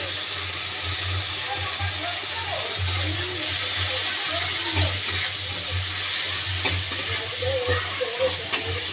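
Turmeric and Kashmiri chili powder frying in hot oil, a steady close sizzle with scraping stir strokes throughout.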